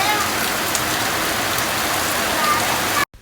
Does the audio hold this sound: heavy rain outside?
yes